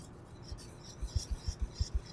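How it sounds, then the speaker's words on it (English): A whisk scrapes and rasps through a quickly thickening sauce for meatballs, a soft rhythmic run of strokes that grows steadier and more regular toward the end, close and quiet with no talking. "So we're just whisking this through."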